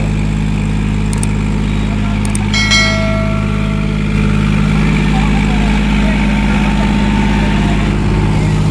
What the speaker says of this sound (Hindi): जोन डेरी 5105 में 4x4 ट्रैक्टर दौड़ रहा है 18 की 16 की बरौली गांव में भाई।